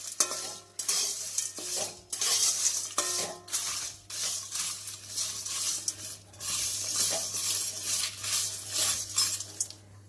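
A spoon stirs and scrapes through shahi garam masala spices in a metal pot, with steady gritty scraping strokes and clinks, close and continuous under a low constant hum.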